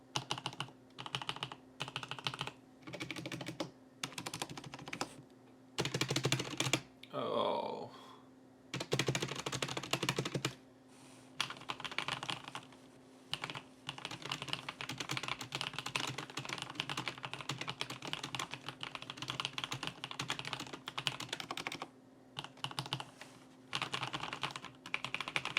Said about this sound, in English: here's the final sound test of how the keyboard sounds